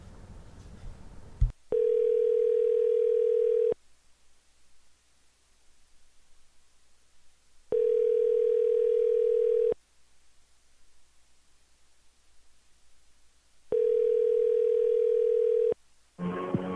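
Telephone ringback tone on an outgoing call, three long steady buzzing rings about two seconds each with silent gaps, clear and alone before a voicemail greeting begins.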